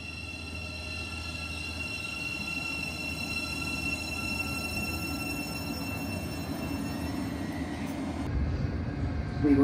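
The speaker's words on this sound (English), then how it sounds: "I'm waiting for the next train out" Train running on the line toward Potters Bar, a steady rumbling roll with wheel and rail noise and faint high tonal whines throughout, building slightly louder near the end.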